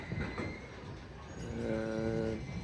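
LNER Azuma train departing Doncaster station, a low rumble with rising tonal motor whine as it pulls away, moderately distant and fairly quiet.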